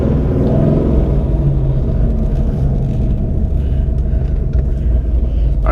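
A 400 hp naturally aspirated two-valve Mustang GT V8 pulling away under light throttle, a loud, deep, steady engine rumble heard close up from inside the car.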